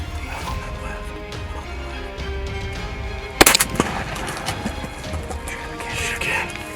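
One sharp, loud shotgun blast during a turkey hunt, cutting through a quieter outdoor background of rustling and low murmurs. A few smaller knocks follow just after the shot.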